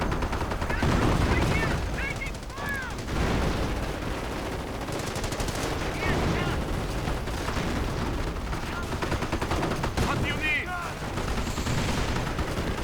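Greyhound armored car firing in a World War II strategy video game, steady rattling gunfire and explosions in a dense, loud battle mix with continuous combat noise throughout.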